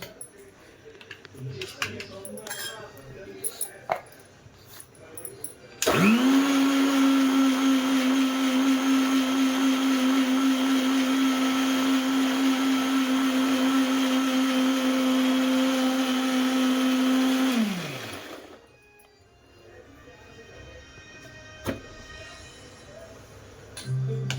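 A mixer grinder whirs loudly and steadily for about twelve seconds while grinding green chutney, starting abruptly and winding down at the end, with faint kitchen clatter before and after.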